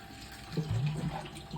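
A short splash of water being poured into a cooking pan, close and brief, over a quiet background.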